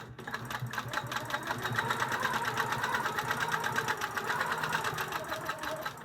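A sewing machine stitches up a seam, quilting a Costco blanket backing onto a quilt-as-you-go top, with a rapid, steady mechanical whir and needle clatter running close and continuous.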